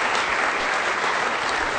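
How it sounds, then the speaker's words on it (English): An audience at an evening talk on mass media and Middle East politics applauds steadily, a dense, continuous wash of clapping that stays loud and even with no voices on top. "Now, please welcome him with a warm round of applause."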